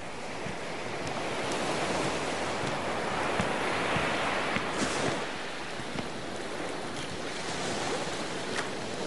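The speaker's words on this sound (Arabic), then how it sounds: "هاي البحر قدامك" Sea waves wash and break nearby in a continuous hissing surf. The roar is broad and steady, with soft swells that rise and fall, and no voices are heard.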